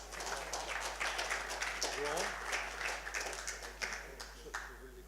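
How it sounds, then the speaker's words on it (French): A small group claps in scattered, uneven bursts while people talk over it, fairly quiet and close. "On peut les applaudir."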